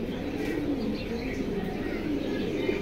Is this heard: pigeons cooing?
yes